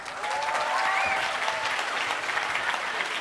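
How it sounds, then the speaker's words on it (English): Steady applause from a seminar audience, sustained and even for a few seconds. "Give him a big round of applause"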